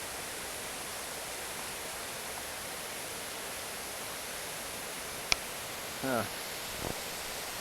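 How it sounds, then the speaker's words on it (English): A small raging river rushing down a steep mountainside on the Goatfell hike on the Isle of Arran, a steady broad roar of water heard from a distance, with a brief voice and a sharp knock near the end. "we've got this steep fall, really steep, down to a little raging river down there"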